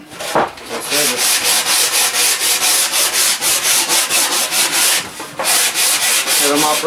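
Quick, steady strokes of hand sandpaper scrub a wooden board for a raccoon stretcher, loud and close in an even back-and-forth rhythm, broken only by brief pauses.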